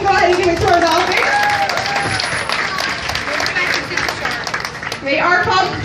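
Audience clapping and cheering for performing dolphins at a marine show, a steady loud wash of applause with children's voices and tonal squeals mixed in throughout.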